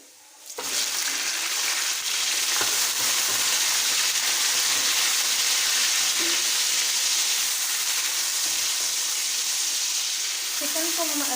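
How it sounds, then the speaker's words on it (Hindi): Chicken pieces dropped into a hot pot with onions and frying, a sudden loud sizzle that settles into a steady, dense crackle with occasional stirring scrapes, close up. "चिकन को हम अच्छी तरह फ्राई करेंगे"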